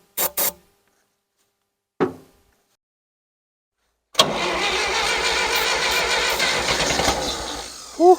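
A 1960s John Deere 1010 tractor, sitting unused for 18 years, gets two short cranking bursts, then fires and keeps running loud and steady for about four seconds, ending in a rise.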